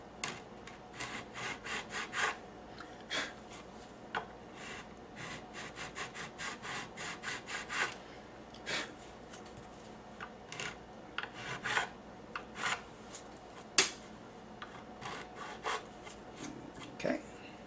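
A guitar nut for a Les Paul is rubbed flat against an abrasive surface in repeated short rasping strokes, a steady back-and-forth rhythm close by and fairly quiet.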